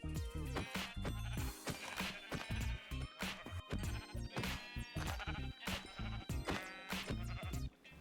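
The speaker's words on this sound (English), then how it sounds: "whether killing all the sheeps out there would make them spawn inside my base" Sheep in the Minecraft video game bleat repeatedly while being killed, loud, dense overlapping cries with sharp hit and crash sounds in quick succession, no talking.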